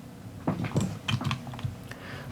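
Quick, irregular keystrokes clatter on a computer keyboard, close and fairly crisp, in short clustered bursts with no talking.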